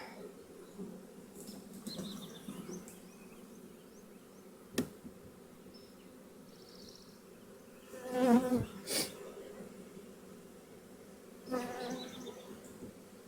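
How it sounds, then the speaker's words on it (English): A steady low drone of many honey bees from a swarm buzzing around a hive, with a few louder bursts as bees fly close past the microphone. "There's still bees in here that need to fly off"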